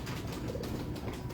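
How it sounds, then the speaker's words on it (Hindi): A large pigeon gives a soft, close coo over a continuous, muffled background murmur. "हामिद भाई यूके से, देखें जी ये बड़ा 10 नंबर कबूतर है"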